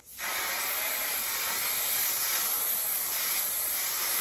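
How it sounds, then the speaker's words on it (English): Varnish sprays onto a hanging ukulele in a steady, close hiss of aerosol spray that starts abruptly and holds evenly for several seconds without pause or talk. "I'm gonna do the spraying now of the varnish"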